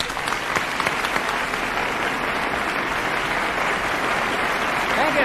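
A live audience on a 1961 album claps steadily and loudly for a performer, a dense, unbroken wash of applause that fills the whole stretch.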